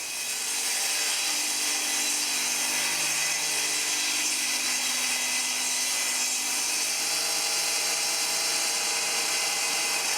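A table saw rips through plywood with a continuous loud, bright whine and hiss of blade on wood, holding steady for about ten seconds with no talk.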